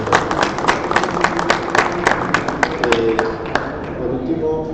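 Audience applause at a university faculty book presentation at a book fair, a steady burst of many hands clapping close and loud, with brief voices mixed in.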